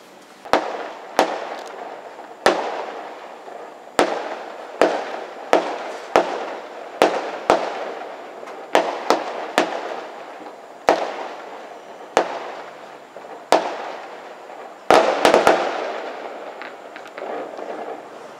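Fireworks bursting over Petaling Jaya during Hari Raya, a string of sharp booms and cracks going off at irregular intervals, some in quick clusters, each trailing into a fading rumble with steady background noise between.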